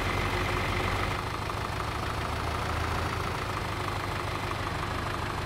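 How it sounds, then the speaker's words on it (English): A John Deere tractor fitted with a front end loader idles in the Farming Simulator 2013 game, a constant low mechanical drone with an even, unchanging level and no voices. "it's John Deere tractor, it's front end loader."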